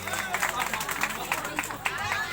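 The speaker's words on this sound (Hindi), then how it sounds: "ताली बजाकर सम्मान कर देंगे।" An audience clapping in honour, a steady patter of many hands applauding indoors at moderate loudness, with murmuring voices mixed in.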